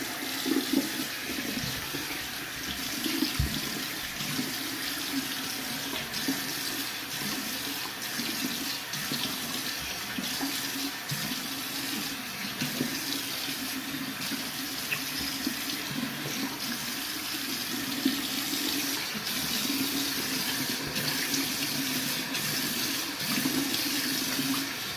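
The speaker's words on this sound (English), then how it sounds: "I just like to rinse off with hot water" Hot tap water runs steadily from a faucet into a sink for face rinsing, a continuous close stream with shifting splashes as hands move through it, no speech.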